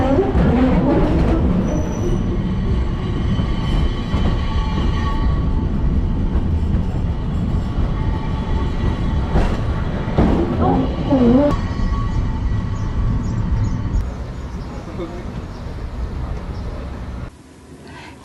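A train ride through downtown Los Angeles gives a steady, loud rumble of wheels and carriage throughout, with brief squeals mid-ride, quieting as it ends.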